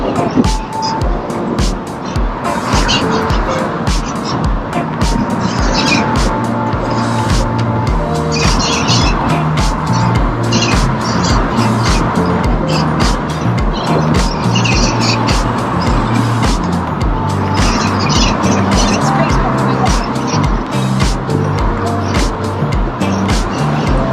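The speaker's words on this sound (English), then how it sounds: "You can hear more traffic now, it's getting busier as we head back down into Belmont Shore and 2nd Street" Steady city traffic flows along 2nd Street heading into Belmont Shore in Long Beach, California, a continuous mix of passing cars heard from the sidewalk, with birds chirping now and then.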